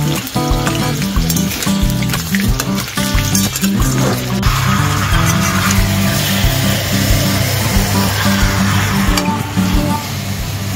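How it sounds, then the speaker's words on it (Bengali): Potatoes fry in a pan for meat curry in a home kitchen, a dense steady sizzle with stirring and clinks running the whole time, loud and close. "আলু ভাজছি।"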